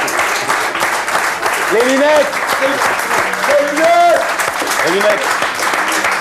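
A French television studio audience applauds steadily throughout during a blind-test game show, while people talk over the clapping.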